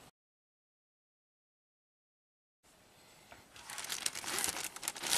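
A cardboard box of packaging for a pressure transducer kit is opened after a stretch of silence, with soft crinkling and scraping building up up close.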